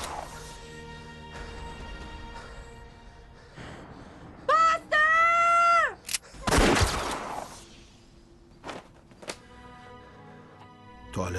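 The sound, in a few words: gunshots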